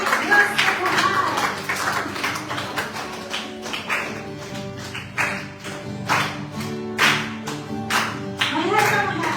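A church congregation claps along during a worship song, rhythmic hand claps under singing voices and music, steady and fairly loud throughout.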